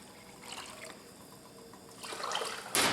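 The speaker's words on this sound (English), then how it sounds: "We're going to add 3/4 of this can of water." Water from a can poured into a pot of Habitant pea soup, a soft trickling splash that swells toward the end, close by with no talking.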